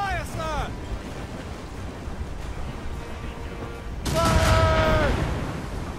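Naval broadside in Assassin's Creed Rogue, a ship's cannons firing a loud rumbling volley over wind and sea noise, with shouted commands sounding before and during the blasts.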